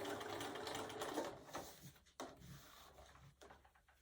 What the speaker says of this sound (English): Pivot, sew to the corner